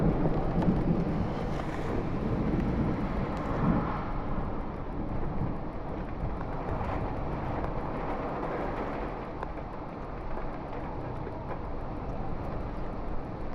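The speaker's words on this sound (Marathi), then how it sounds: "भरपूर मोठ्या प्रमाणात वारा आहे. पाऊस देखील त्याचप्रमाणे आहे." Dense, steady roar of strong wind and torrential monsoon rain, loud and unbroken throughout, with rumbling gusts buffeting close to the microphone and no voices.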